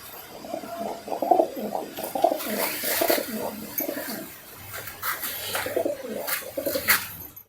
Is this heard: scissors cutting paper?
no